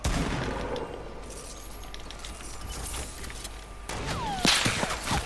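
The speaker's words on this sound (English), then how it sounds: "No, they keep shooting me" Gunfire in a multiplayer shooter video game: a continuous dense barrage of rapid shots and sharp cracks, loud and close, with a whip-like ricochet near the end and no talking.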